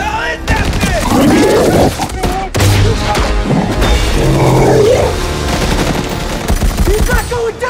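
Dense bursts of automatic gunfire from a SWAT team rattle through a Venom (2018) movie fight scene, loud and nearly continuous, with booms, crashes and shouted voices mixed in.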